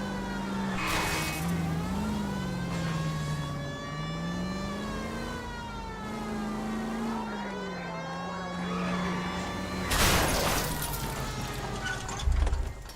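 In an L.A. Noire car chase, a revving engine whines with a wailing police siren, then heavy crunching impacts hit as one car rams another near the end.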